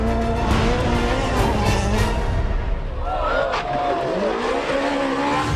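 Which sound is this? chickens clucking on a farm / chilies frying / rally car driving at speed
rally car driving at speed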